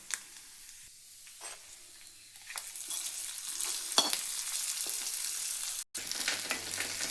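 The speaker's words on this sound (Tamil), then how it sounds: "இப்போ நம்ம இந்த தாளிப்பை அதில் சேர்த்துக்கலாம்" A Kerala-style erissery takes its tempering in a hot pan, and a bright sizzle swells and holds steady with stirring scrapes, briefly cutting out before continuing, loud and close.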